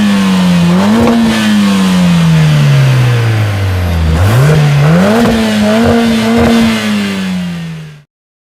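Lotus Emira with a four-cylinder engine revving hard and close: a steady rising and falling drone that climbs, dips low around the middle, then surges again before cutting off abruptly.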